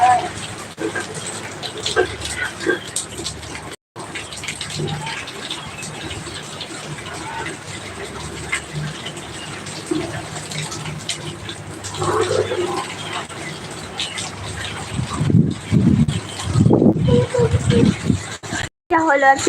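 Morning rain and wind in Gazipur make a steady broadband hiss throughout, with brief gusty swells, while a voice talks over it.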